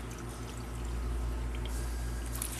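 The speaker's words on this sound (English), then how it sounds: "So I'm going to put the vinegar in it." Vinegar pours into a pot of beets for pickling, a soft, continuous liquid stream over a low background hum, quiet and close.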